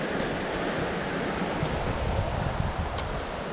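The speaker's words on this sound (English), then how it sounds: "we are crossing Indian Creek" Flowing water of Indian Creek in the Great Smoky Mountains being crossed on a backpacking hike; a steady, close broadband rush of water that runs unbroken with light wind noise and no talking.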